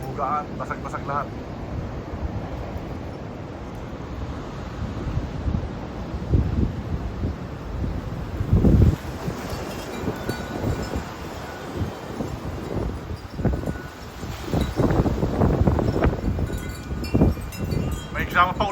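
Strong wind in a rainy storm during a power outage rushes in a continuous, rumbling roar with heavier gusts hitting the microphone, rising in mid-clip and again toward the end.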